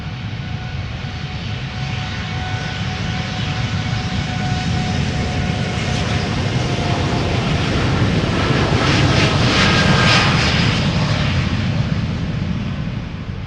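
A 10-year-old airliner, first flown in 2014, takes off from Amsterdam Schiphol Airport with a loud, sustained jet-engine roar. The roar swells steadily and peaks as the plane passes close, with no voices over it.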